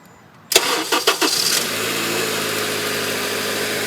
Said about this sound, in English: So now I'm just going to start the car.